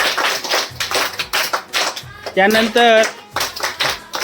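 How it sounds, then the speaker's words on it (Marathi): Schoolchildren at a primary school clap for the winning group of a treasure hunt, bursts of applause mixed in with an adult speaking over them. "तर त्यांच्यासाठी सर्वांनी टाळ्या वाजवा त्या ग्रुपसाठी"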